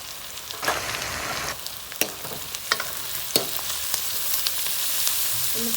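Potatoes fry in hot oil with red chilli and turmeric, a steady close sizzle with a few sharp spatula clinks and stirring scrapes scattered through, and no talking.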